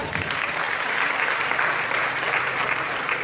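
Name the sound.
audience applause at a beauty pageant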